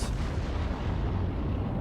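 A spaceship fires a continuous gunfire barrage at a big freighter in a space video game, heard as a dense, loud, rumbling wall of blasts with no pause and no talking.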